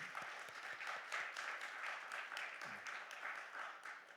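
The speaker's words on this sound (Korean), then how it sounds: "다시 한번 큰 박수 해주시기 바랍니다." Church congregation at a Sunday worship service clapping together, a fairly faint, even patter of many hands that carries on steadily with a brief low voice partway through.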